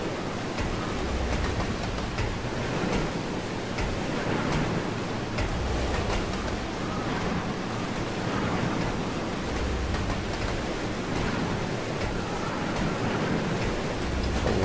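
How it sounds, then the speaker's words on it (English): Heavy rain in the video game Resident Evil 0, a steady, dense hiss of downpour that stays loud and even throughout with no pauses. "A lot of rain."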